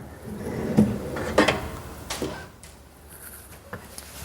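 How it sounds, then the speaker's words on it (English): A soft-close larder unit is opened and closed a couple of times, giving a few soft mechanical knocks and runner slides spread over a few seconds, close and fairly quiet. "So if you now open and close the unit a couple of times, the frame will find its own line with the top runner."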